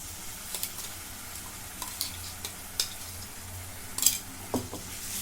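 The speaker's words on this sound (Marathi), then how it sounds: "आता परतून घेते म्हणजे कच्चा पाना जाण्यासाठी दोन मिनटं परतून घेते अजून" Browned onion is fried with a ground paste of green chilli, coriander, ginger and garlic. The pan gives a soft, low sizzle, and light spatula taps and scrapes come through it now and then.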